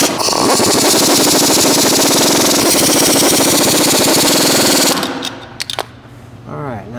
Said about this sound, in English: I'm going to grab a regular ratchet.